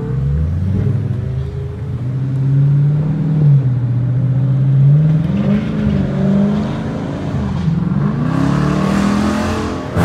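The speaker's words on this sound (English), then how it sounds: "We're getting on the freeway and really get some pulls in." A Dodge Challenger R/T accelerates hard onto a freeway in rush-hour traffic, its V8 roaring loud and close from inside the car. The engine pitch climbs through the gears with audible shifts, and there is no talking.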